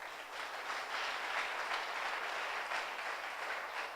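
Congregation applauding and cheering during a Sunday church service, a steady dense wash of clapping that holds at even loudness for the whole stretch, with no voice over it.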